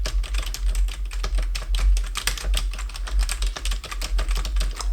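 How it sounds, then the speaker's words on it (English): Someone types on an NPET YK10 wireless keyboard, a budget model with fairly loud, non-silent keys, producing quick, irregular clacking keystrokes that are close and distinct and continue steadily without pause. "when you strike those keys, they're a little bit louder than some of the silent ones on the market"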